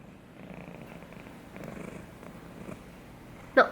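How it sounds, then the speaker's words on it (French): A pet cat named Fudge purrs softly at close range, a low steady rumble under faint room noise, ending with a brief louder sniff or snort. "Fudge, il ronronne déjà"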